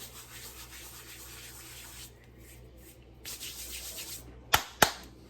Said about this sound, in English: use my self-made grinder